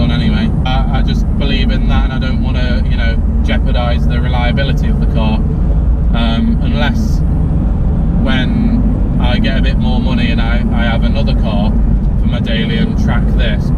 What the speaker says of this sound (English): The actual exhaust note is really, really good, and obviously because it's a Mazda engine, it sounds very Japanese-ish